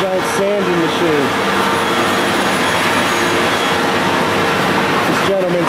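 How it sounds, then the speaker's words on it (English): Large industrial sanding machine at the Framus/Warwick guitar factory, running as a loud, steady broadband roar with tonal whine through the whole stretch, with a few voice-like tones near the start and end. "The giant sanding machine."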